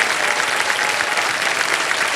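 A studio audience at a quiz show claps steadily and loudly, a dense uniform roar of hands that holds unchanged from start to finish with no speech.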